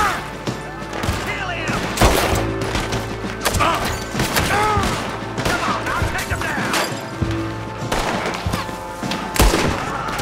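Rifle gunshots in Red Dead Redemption 2 land repeatedly at irregular intervals as sharp, loud reports over busy game sound and music. A voice talks between the shots.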